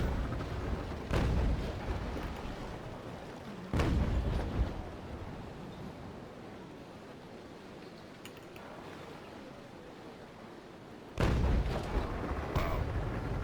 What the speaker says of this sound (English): For the cannon shots there.